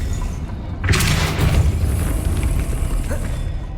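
Depulso spell cast in the video game Hogwarts Legacy, a single forceful whooshing boom with a bright burst that trails into a rumbling decay over steady background ambience.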